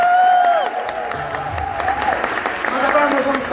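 Concert audience at a show at Sesc Santana in São Paulo claps and cheers, a steady wash of applause blended with crowd voices and a few whistle-like tones.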